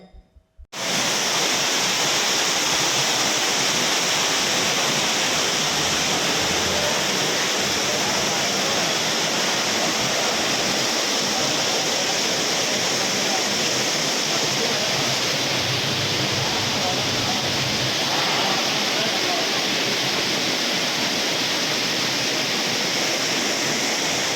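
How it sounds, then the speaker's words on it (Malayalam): Floodwater from heavy rain pours down the entrance steps into an irrigation office in Shoranur, a loud, steady broadband rush of water that sets in within the first second and continues unbroken. "ചവിട്ടുപടികളിലൂടെ വെള്ളം നേരിട്ട് ഓഫീസിനകത്തേക്ക് ഒഴുകി"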